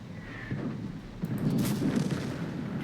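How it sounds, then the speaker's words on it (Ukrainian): An artillery shell fired in a World War II tank video game featuring the T-34-85M. A deep, booming blast with a rolling rumble stands out against a low background hum. "Бачив, звідки арта полетіла, бачив."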